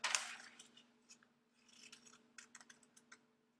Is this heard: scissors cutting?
yes